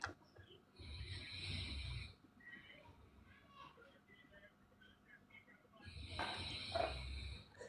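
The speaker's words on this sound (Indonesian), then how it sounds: "Ya ini ada suara yang ngorok nih ya." Someone snores faintly in the background of a live online meeting, two rasping breathing bursts several seconds apart, low and distant, with quiet voices around them.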